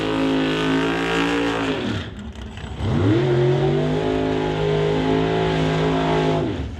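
A Chevrolet Lumina drag race car, the Wix Filter Sealed Power Lumina, revs loudly, drops briefly to a lower rumble, then surges back up into a sustained, strong engine roar close by.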